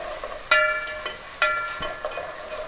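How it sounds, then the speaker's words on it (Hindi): Onions, garlic and ginger fry in a pan for a lauki chana dal curry, with a steady sizzle broken by several scraping stirs of a spoon, close up. "अब लहसुन अदरक डाल के हम इसको तकरीबन 3 मिनट के लिए अच्छे से भूनेंगे, फ्राई करेंगे"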